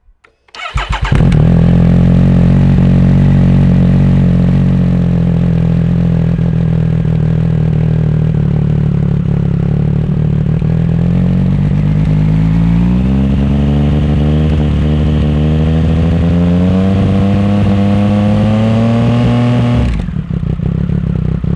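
A motorcycle engine fitted with a baffle starts and idles loudly, then climbs steadily in pitch as it is revved up to about 5000 rpm, holding a continuous, close drone for around twenty seconds before cutting off.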